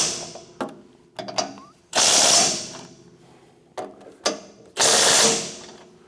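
A hand ratchet clicks in short bursts, then a power tool whines twice, snugging down the four fan motor bolts on a MUSKOX snowblower. Loud and close, with no talk.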